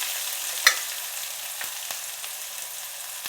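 Onion frying in hot oil with mustard seeds, a steady close sizzle with a few sharp pops and crackles.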